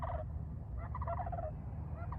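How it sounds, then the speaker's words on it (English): Big cranes giving short, rough honking calls outdoors, three brief bursts spread over a couple of seconds above a constant low background rumble. "These are cranes."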